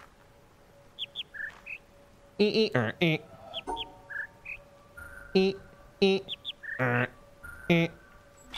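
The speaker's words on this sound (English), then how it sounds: "It's the fucking bird noises." Bird calls serve as an audio cue in The Witness video game: short chirps and clucking, fowl-like calls recur in scattered bursts over a faint steady tone, with a man's brief murmurs in between.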